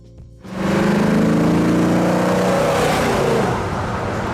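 A 1969 Plymouth Road Runner's 426 cubic inch Hemi V8 roars up after a short pause, revving loud and close with a deep throaty growl that holds steady, then eases slightly.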